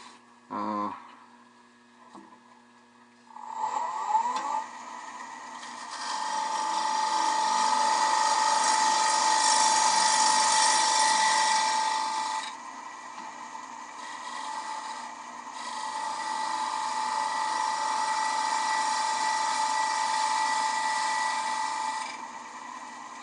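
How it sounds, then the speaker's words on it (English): Bowl gouge with a traditional grind making a push cut on a spinning wooden bowl on a lathe, a steady loud scraping hiss over the motor hum, with a brief pause partway through before the cut resumes. "So that's a push cut"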